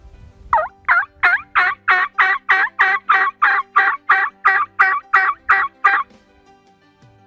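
A long-hook turkey mouth call with an uppercut cut imitates a hen turkey, giving a fast, even run of about fourteen loud, raspy yelps close to the microphone before it stops, with nothing else heard.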